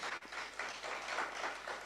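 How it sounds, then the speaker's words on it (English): Audience applause for panelists at a conference session, a soft, steady wash of clapping heard from a distance, fairly faint and even throughout. "please, another round of applause to our panelists"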